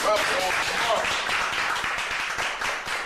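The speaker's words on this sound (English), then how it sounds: "let's give another round of applause to" An audience applauds, a dense, fairly close burst of clapping that holds steady for a few seconds and then thins slightly toward the end.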